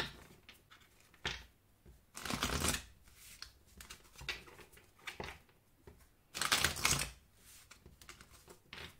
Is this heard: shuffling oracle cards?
yes